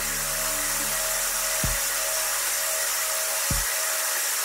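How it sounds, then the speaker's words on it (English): CO2 gas pushed at 5 psi through the sidearm of a brewery brite tank, a loud continuous hiss with a steady tonal hum underneath, broken by two brief thumps. "I am going to start pushing some CO2 at a rate of 5 psi through the sidearm of this tank."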